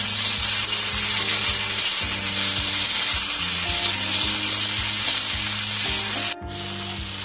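A ginger and cumin paste fries in hot oil for a green peas kachori filling, a close, steady sizzle with soft stirring scrapes throughout, briefly dipping near the end.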